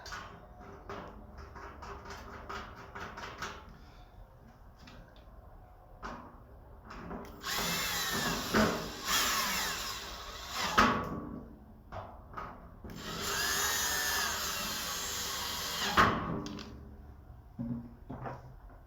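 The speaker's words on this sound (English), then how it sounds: "Line the holes up and insert the screws." A power drill drives screws into the brackets of a hinged hood for a Blackstone griddle, giving two long whirring bursts with handling clicks and rattles between them, fairly close.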